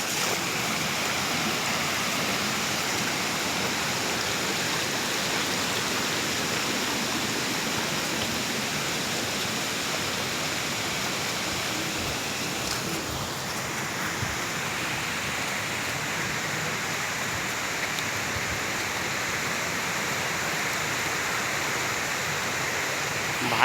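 Falling water at Ghonsari waterfall near Kankavli in Sindhudurg roars steadily and close, an unbroken hiss-like rush lasting the full length with no talking over it.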